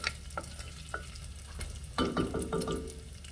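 Bacon frying in a pan just starting to brown, with a soft steady sizzle and a few sharper pops and spatters toward the end, close and moderately quiet, with no talking.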